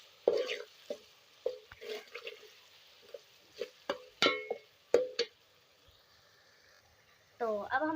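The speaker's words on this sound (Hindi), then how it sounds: "तो अब हम इनके अंदर सारे मसाले ऐड करेंगे और इन्हें मिक्स करेंगे।" Spices being stirred and fried in a pan with potatoes for aloo keema: a spoon clinks and scrapes against the pan in irregular, close, short strokes over a faint background.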